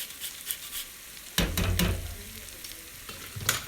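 Spices and rice are tossed in a hot pan, a sudden loud sizzle and scrape swelling midway then fading to a soft background fry, with another brief stir-scrape near the end.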